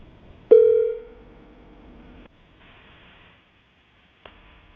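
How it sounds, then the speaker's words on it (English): A telephone line begins with a single loud, steady tone that fades over about a second, followed by a quiet hiss, a brief click and another short faint tone, heard close with no talking. "I'm going to dial the number."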